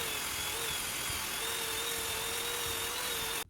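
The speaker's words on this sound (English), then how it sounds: "It's now time to give the piston a really good cleaning and polishing up" A power tool spins steadily, polishing the piston of a Webley & Scott junior air pistol, a constant whining buzz with a thin high tone, close and continuous before cutting off abruptly.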